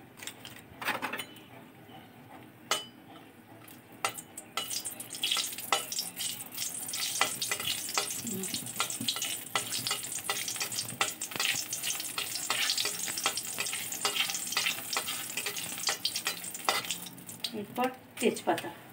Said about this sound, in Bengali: মুগ ডাল ভাজা হচ্ছে, এখন ডাল ভাজা হচ্ছে